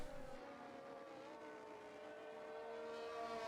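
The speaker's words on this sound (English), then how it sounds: "There goes that power F1 car." An F1 race car in a racing video game, run at a Great Britain circuit, drones past as a faint, steady, whining engine tone that rises slightly toward the end, with no talk.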